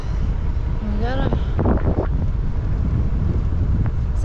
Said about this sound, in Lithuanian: Aš galvoju, ko čia toks gaivus vėjelis pučia.